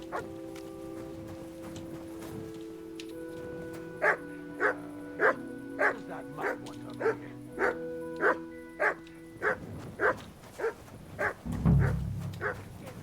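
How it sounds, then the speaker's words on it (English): A dog in Kingdom Come: Deliverance II barks in a regular series of sharp, evenly spaced barks over tonal game music, ending with a rougher burst and shuffle. "Sit and bark."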